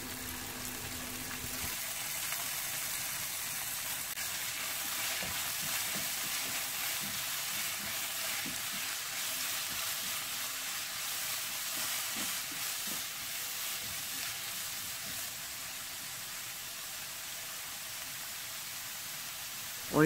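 Julienned burdock root stir-frying in a pan with a little cooking oil and soy sauce, producing a constant hissing sizzle that stays even and steady throughout, with no voices.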